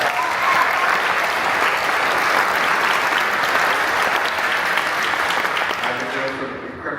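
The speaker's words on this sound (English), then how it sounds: "If we can give them a round of applause." Audience applause at a conference keynote: a large crowd claps steadily for about six seconds, then it fades away.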